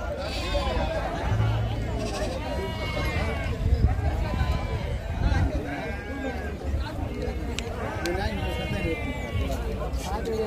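A flock of sheep bleats repeatedly at the Gudur sheep market, wavering calls rising and falling close by amid crowd babble and people talking.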